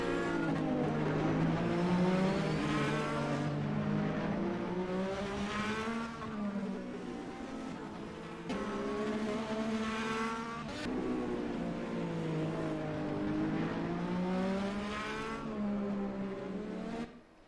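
Indy race cars roaring past at Mid-Ohio Sports Car Course, loud continuous engine notes rising and falling in pitch as several cars pass close by, with a brief dip and a sudden cutoff at the end.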